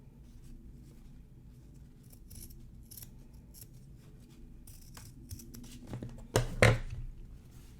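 Faint rustling of craft material leads up to a sharp, loud snip of scissors near the end as a piece is cut off a pot holder craft project.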